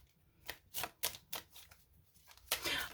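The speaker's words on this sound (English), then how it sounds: "They say no, keep shuffling." Tarot cards are shuffled by hand in several quick, crisp riffling bursts, separated by brief pauses and ending with a longer flurry, close and fairly quiet with no talking.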